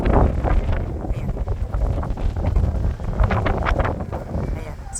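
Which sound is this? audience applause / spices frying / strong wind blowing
strong wind blowing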